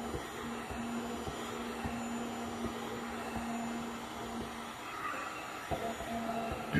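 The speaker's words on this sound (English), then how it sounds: "So we just use a heat gun. I turn it on high, just melt it down real quick." Heat gun on high melting soy candle wax, a steady blowing whir with a faint hum, heard close and alone with a few light clicks.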